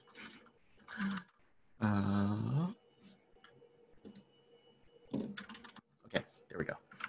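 Computer keyboard typing at a desk, scattered soft key clicks in short bursts across the clip, faint and close, with a person speaking between and over the keystrokes.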